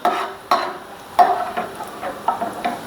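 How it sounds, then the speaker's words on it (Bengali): Onion and garlic frying in a pan, heard as a soft sizzle broken by several sharp stirring scrapes and clinks of a utensil against the pan, close by and with no talking. "পেঁয়াজ রসুনটা আমি লাল লাল করে ভেজে নেব।"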